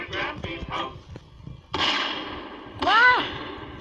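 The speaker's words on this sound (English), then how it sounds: "Gunshots." Gunshots in the video game Garry's Mod, a few sharp cracks and bursts in quick succession, interleaved with loud excited voices and screaming.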